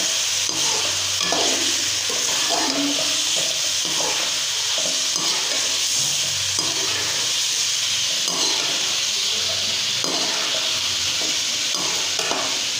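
Chicken and browned onions frying in a karahi give a steady, loud hiss and sizzle with occasional stirring scrapes, continuous throughout and with no talking.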